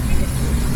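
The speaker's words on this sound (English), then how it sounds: "There is a lot of traffic everywhere." Busy street traffic in Bratislava rumbles close by, a dense, steady roar of car and bus engines with no break in the brief stretch.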